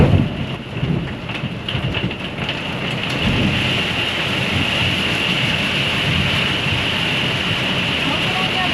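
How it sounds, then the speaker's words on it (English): A heavy rainstorm with hail and wind hammers down close by, a dense constant roar of rain and hail on a surface with rumbling thunder, loudest at the start and then a steady wash. "Got one heck of a storm just rolled in. We got rain, we got hail."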